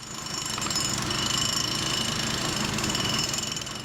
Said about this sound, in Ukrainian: Електромонтер Олександр Гавриленко за допомогою відбійного молотка забиває в землю арматуру